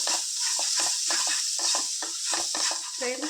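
Ginger garlic paste fries in a pan with a steady close sizzle, broken by a quick, regular rhythm of spoon strokes scraping and stirring against the metal.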